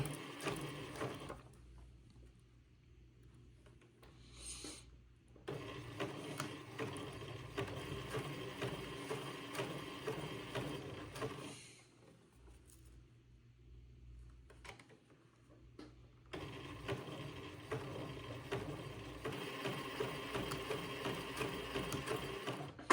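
Domestic sewing machine zigzag stitching a lace header onto an embroidered baby bubble, running in steady mechanical bursts with two short pauses between runs, close and fairly quiet with no talking.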